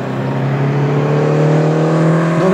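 Renault Twingo race car on a circuit, its engine a loud, steady droning whine heard close and continuous throughout, with no talk over it.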